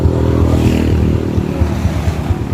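A Honda Click 150 scooter revs hard close by during an informal street match-up against a Smash, a loud buzzing engine drone with rhythmic pulsing throttle bursts and no talk.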